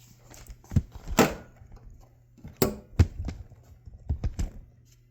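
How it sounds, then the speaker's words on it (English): Latches and hood of a 1968 Jaguar XKE with a turbocharged 383 stroker engine being opened, heard as several sharp metallic clunks and thuds spread over a few seconds, fairly close, with no talking. "I'll open up the hood for you guys."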